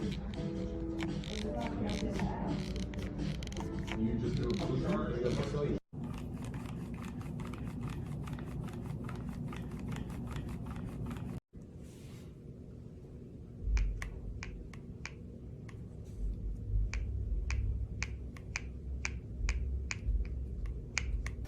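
The hinge of a Samsung Galaxy Z Flip folding phone gives off a string of sharp, plasticky clicks and creaks as it is worked, close to the mic, with a person talking over much of it.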